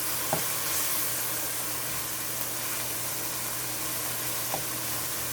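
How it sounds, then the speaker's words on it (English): Allspice and clove sautéing in a pot for Jamaican Ital stew peas, a steady soft sizzle with a faint low hum beneath and a couple of brief clicks, close and even, no voices. "So let that saute a bit."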